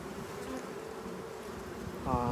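Honey bees buzzing around a yard of many beehives, a dense steady drone with individual bees passing close, one loud buzz sweeping near the microphone at the end.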